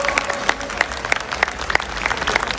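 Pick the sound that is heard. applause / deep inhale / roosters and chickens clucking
applause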